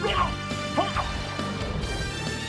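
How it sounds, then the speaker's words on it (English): A dog enemy in Castlevania: Symphony of the Night on PlayStation barks in a few short yips over game music, with brief thuds of combat mixed in. "That puppy dog is a lot meaner whenever I don't have my awesome sword."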